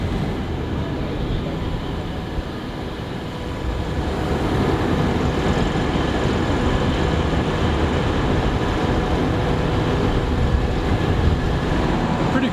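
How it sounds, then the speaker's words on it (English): A steady, loud rumble and hum of an electric train in a Newcastle station, continuous throughout and slightly building midway, with no clear voices. "they've got electric trains up here."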